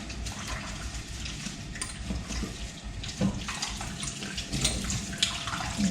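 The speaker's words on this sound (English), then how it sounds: "I'm gonna wash my wine glass first." Tap water runs steadily into a kitchen sink while a wine glass and a bowl are washed, with soft clinks and splashes of dishes over the close, continuous rush of water.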